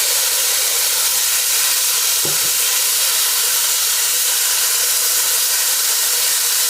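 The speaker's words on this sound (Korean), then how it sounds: "프라이팬을 살짝 달군 다음에 고기를 이렇게 한번 살짝만 익혀서 쓸 거예요." Meat searing in a lightly heated frying pan, a steady soft hiss and sizzle holding evenly throughout with one brief faint knock partway through, no voices.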